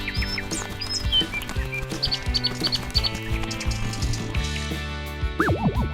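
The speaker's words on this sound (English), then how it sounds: "Suddenly, a little bird lands and pecks at Dad's ice cream." A little bird chirps in a Bluey cartoon park scene, with quick high tweets scattered over a busy bed of music and other cartoon sound effects.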